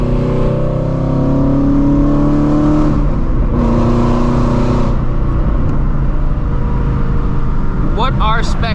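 A Shelby GT350R's engine revs and accelerates on the road from the driver's seat, a steady loud drone with rising pitch sweeps and a sharp surge near the end.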